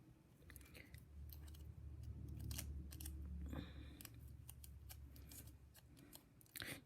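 Scissors snip wool yarn while trimming weaving being removed from a loom, a series of close, crisp cuts and rustling over quiet room background with no talking.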